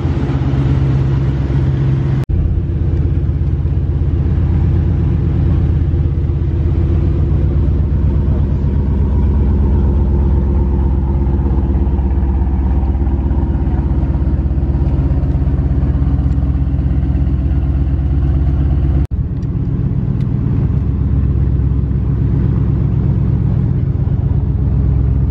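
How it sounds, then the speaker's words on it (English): An Aston Martin V8 Vantage serving as the F1 safety car sits running at the Goodwood Festival of Speed, its V8 engine giving a loud, steady, deep rumble close by, with brief breaks near the start and near the end. "The F1 safety car, V8 Vantage, with its engine running"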